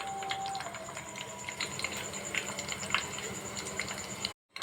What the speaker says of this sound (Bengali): এখন একটা খুব কম জালে ভালো করে তেলটা জাল দিয়ে নিতে হবে